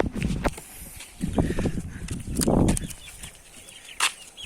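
Chickens cluck and shuffle inside a backyard coop during egg collection, with scattered clucks, wing flutters and footsteps at close range, and a brief sharp burst near the end.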